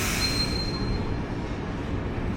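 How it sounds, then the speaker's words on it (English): Madrid airport inter-terminal train, a steady low rumble of wheels on track with a faint high squeal near the start, heard from inside or beside the car. "you have to get on this inter-terminal train to take you back over to the A gates"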